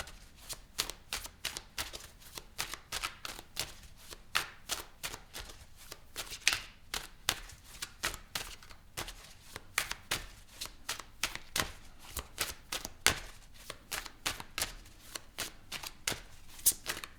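Tarot cards are shuffled continuously in a fast riffling rhythm, with crisp repeated card snaps, quiet and close, with no talk.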